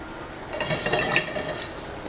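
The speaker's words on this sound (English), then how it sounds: "What I'm gonna do is saute my onions and my rice together." Onions and rice sauté together in a hot pan, giving a soft hiss with light scraping and stirring that swells briefly in the middle and then settles, with no voices.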